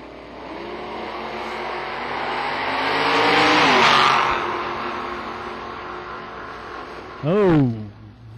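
Drag racing at The Million 2016, a green Camaro and a 1967 Dodge Dart, engines revving and rising through the gears, swelling loud as they launch, with another sharp revving surge near the end.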